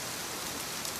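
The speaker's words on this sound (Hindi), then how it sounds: "बारिश तेज होती चली गई।" Heavy rain used as a sound effect in a Hindi horror story: a thick, unbroken downpour hiss, loud and close, holding steady through the short stretch with no voices.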